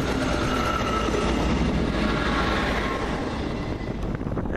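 A Class 158 diesel unit pulls away from Warrington Central station, a steady loud rumble and engine drone holding throughout with faint wheel clatter, easing slightly near the end.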